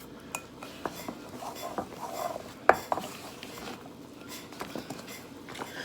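Chocolate chip cookie dough being mixed for a tight dough, giving scattered soft taps and scrapes of a utensil against a bowl with one sharper clink, close and fairly quiet.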